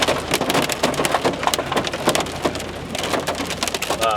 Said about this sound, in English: There's like gumball sized hail coming down.